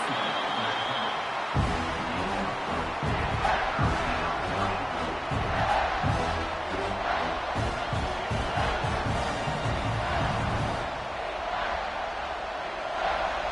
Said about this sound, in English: And here comes the noise. This crowd is trying to inspire this defense